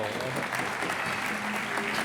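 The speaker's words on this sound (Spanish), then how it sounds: "un aplauso para o público" Steady, dense applause from an audience at a live event in Santiago de Compostela, continuous and fairly loud for the whole stretch, with no pauses and no voices standing out.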